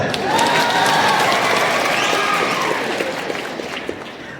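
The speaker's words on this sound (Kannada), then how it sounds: "ಚಪ್ಪಾಳೆ ಹೊಡಿಬೇಕಲ್ಲ" An audience claps steadily at a talk, a dense wash of many hands that starts loud and slowly thins toward the end, with no voices over it.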